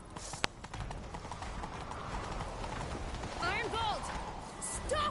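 A horse gallops in the video game The Witcher 3. Quick, rhythmic clip-clop hoofbeats run throughout at close range, with a brief whinny near the end and a dense game soundscape behind them.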